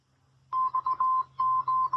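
A Muzen Wild Mini outdoor Bluetooth speaker plays its power-on signal, a clear, close electronic beep tone in a series of short and longer pulses, loud against a quiet background.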